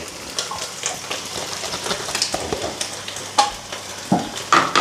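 Tomato paste and pepper fry in a hot pan, giving a steady sizzle with frequent sharp spatters and pops, close and fairly loud, with no talking.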